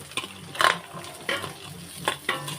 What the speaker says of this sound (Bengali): সব সবজিগুলো দিয়ে একটু ভেজে নেব